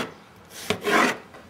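Two short scraping cuts of a knife through eggplant, cutting it into long strips: a brief sharp stroke followed by a longer rasping slice, close and fairly quiet.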